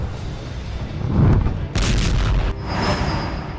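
Russian artillery firing around Bakhmut: heavy booming blasts and a sustained roar of distant shelling, loud and reverberant, with no voices.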